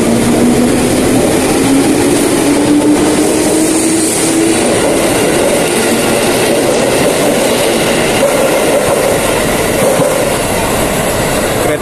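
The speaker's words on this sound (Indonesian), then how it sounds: "Kereta dari Jepang ini ya." A Japanese-made commuter train rolls past loudly and close in central Jakarta, a continuous roar of wheels on rail with clattering and a rising, squealing tone, with no speech over it.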